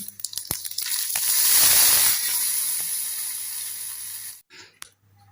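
Whole spices crackling and sizzling in hot oil for a cucumber tambuli tempering, a loud close hiss that swells and fades, with a few clicks and knocks at the end.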